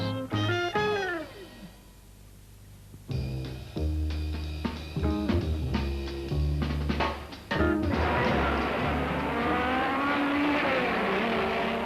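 Honda Formula 2 racing cars from 1966 at the Goodwood Circuit in England roar past one after another, engines rising and falling in pitch as they pass, ending in a dense, loud pack.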